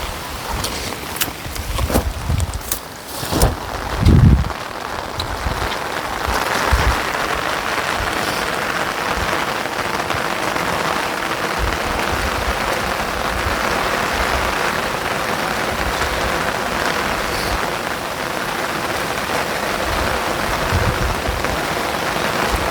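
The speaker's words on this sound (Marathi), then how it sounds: "पाऊस पण आला आहे." Steady rain hisses across the whole stretch, with a few louder knocks and thumps near the start before it settles into an even downpour.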